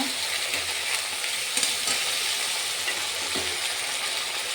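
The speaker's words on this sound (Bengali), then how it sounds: "জিরে বাটা আর একটু ধনে বাটা দিয়ে এবার একটু নাড়াচাড়া করে নিলাম" Tomato, ginger, green chili, cumin and coriander pastes fry in a pan, a loud close sizzle with occasional scraping as a spoon stirs the spices, with no talking.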